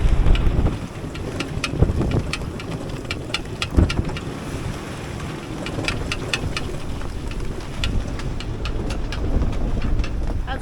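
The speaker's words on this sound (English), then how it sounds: "For the last 3 hours, we've been into 30 plus knots of winds, topping out at 40 something." Strong wind of 30-plus knots roars over a sailboat at sea, a constant loud rumbling buffet across the microphone, with faint rattles and clicks from the boat throughout.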